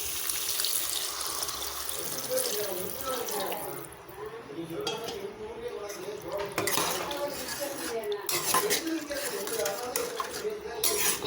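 Water is poured into a pan of brinjal and jackfruit seed masala. It splashes and gurgles close up, with light clinks of a utensil against the pan and a short lull partway through.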